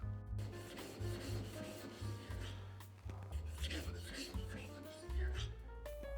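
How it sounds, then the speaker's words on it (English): A 400 grit diamond flattener rubbed back and forth across an 800 grit diamond sharpening stone, giving close, gritty scraping strokes in an uneven rhythm, with a voice talking underneath. "we got our 400 grit flattener that we're going to use on the 800 grit stone. So I just want to give it a couple passes"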